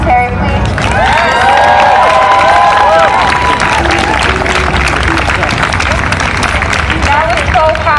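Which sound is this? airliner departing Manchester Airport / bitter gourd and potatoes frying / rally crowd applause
rally crowd applause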